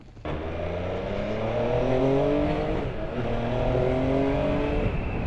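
MV Agusta F3 Rosso 2022 sports motorcycle riding off, its engine rising through repeated rev sweeps with gear changes, close and loud without any talk.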